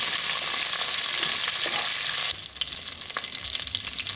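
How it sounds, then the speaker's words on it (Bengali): Black mustard seeds, curry leaves and green chilies fry in oil with a bright, dense sizzle that drops abruptly midway into a lower crackle with scattered pops and stirring scrapes. "1/2 চামচ কালো সর্ষে, 7টা থেকে 8টা কারি পাতা, 5টা কেরা কাঁচা লঙ্কা। এগুলো হালকা করে ফ্রাই করে দিচ্ছি।"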